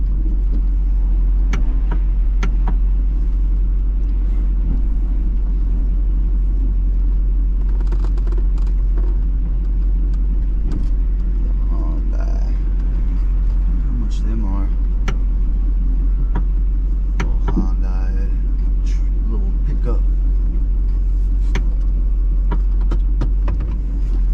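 A snow plow truck's engine runs steadily throughout, a constant low rumble heard from close by, with occasional faint knocks and rattles on top.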